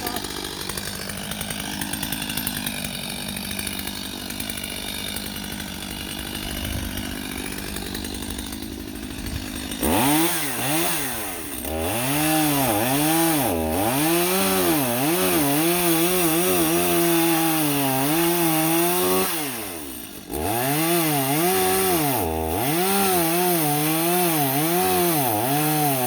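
A Stihl MS250 chainsaw roars up close, its pitch rising and dipping repeatedly as it bites into wood, with a lower idle hum before the cutting begins.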